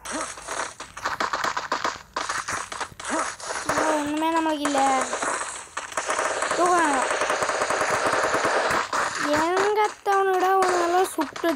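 Loud, rapid bursts of automatic gunfire in the Free Fire mobile battle game rattle almost continuously, with a young voice talking over the shooting.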